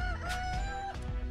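A chicken in the video game Yakuza: Like a Dragon gives a drawn-out crowing squawk followed by a few short clucks, heard close and clear over faint game background sounds.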